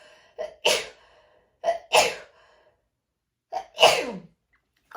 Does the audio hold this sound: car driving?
no